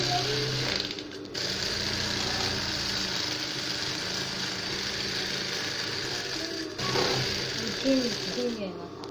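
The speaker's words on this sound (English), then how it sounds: "So I'm going to be sewing. I'm going to be joining the inseam." Sewing machine stitching the inseam of a jumpsuit leg: a rapid, steady mechanical whir of needle strokes at close range, briefly easing twice, with faint background sounds beneath.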